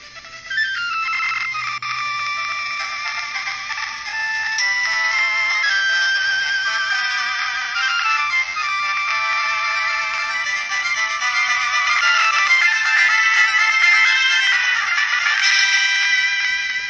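Pokemon Emerald Game Boy Advance game music plays continuously from an iPod emulator, a bright, steady chiptune melody at fairly loud level with no talking.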